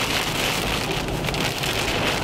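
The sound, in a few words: hail and rain hitting a car while driving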